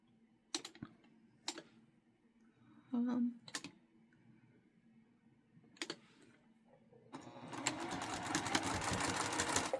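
A sewing machine stitches a fabric valance, starting with a few separate clicks and short bursts, then settling into a steady, dense run of rapid stitching near the end, close and moderately loud.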